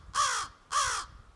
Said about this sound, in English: Instead, it's that coarse caw.